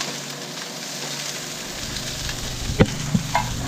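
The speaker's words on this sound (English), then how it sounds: "stir fry the mushroom" Canned sliced mushrooms sizzle steadily in a frying pan as they are stir-fried, with a few close scraping knocks of a utensil against the pan near the end.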